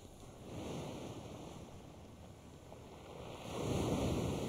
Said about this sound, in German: Für sein Flüchtlingsprojekt ist Manolis ans Meer nach Piräus gefahren.